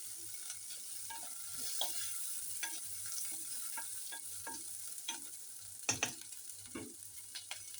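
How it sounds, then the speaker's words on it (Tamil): Red chillies sauté in a pan with a soft, constant sizzle, broken by sharp scrapes and clacks as a spatula stirs them, a little louder near the end. "கொஞ்சம் நேரம் வதங்கட்டு."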